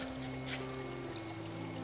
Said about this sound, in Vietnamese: Giờ chúng ta sẽ xả nước nè